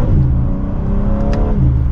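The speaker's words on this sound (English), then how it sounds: "you get a very fun vehicle that's pretty loud for that exhaust" BMW M4 Competition exhaust roars loudly and close, the engine revving steadily with a rising tone before dropping back partway through, and no talking over it.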